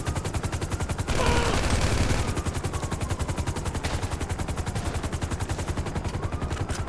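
Rapid automatic gunfire from a GTA 5 story-mode shootout, sustained rhythmic bursts throughout with a louder, denser volley briefly in the middle.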